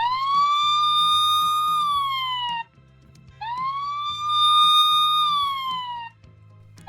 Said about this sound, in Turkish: Bu şekilde acil durumlarda kullanabileceğiniz bir siren sesi de eklenmiş durumda.